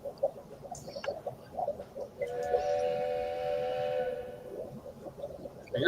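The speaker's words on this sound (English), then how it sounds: "I hear a train coming." A distant train whistle sounds one sustained, steady blast lasting a couple of seconds against a quiet, faintly noisy background.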